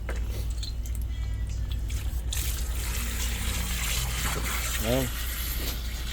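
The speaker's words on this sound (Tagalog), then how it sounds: "Lagyan ng tubig" Water poured into a container for a turtle, trickling and splashing softly close by while people talk over it, with a brief gurgle near the end.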